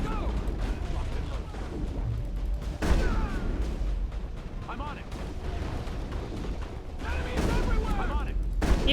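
Shotgun blasts and gunfire in the video game Mass Effect, loud booming shots in an ongoing firefight with a dense layer of game effects and muffled voices throughout.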